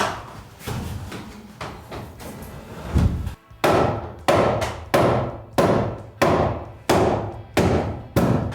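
Hammer blows knocking a 2x6 wooden stud sideways during house framing, a series of about a dozen loud, sharp, close strikes at a fairly even pace, with no talk.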